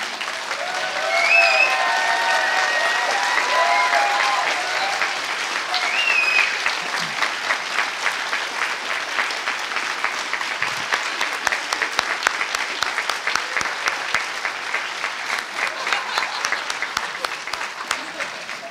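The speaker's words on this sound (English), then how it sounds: "give the organizers of this event a huge round of applause" Conference audience at the Skepticon 7 event applauding the organizers, a loud sustained ovation from a large crowd that swells early and then settles into steady, crisp clapping with scattered individual claps standing out.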